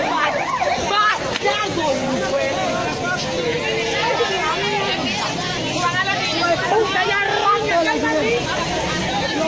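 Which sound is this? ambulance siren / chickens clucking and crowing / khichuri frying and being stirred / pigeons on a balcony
ambulance siren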